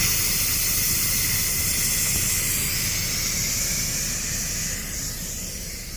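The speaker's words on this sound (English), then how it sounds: "It's just the steam." A loud, continuous hiss of steam jets from a pressure cooker of spaghetti, steady and close throughout, easing off slightly toward the end.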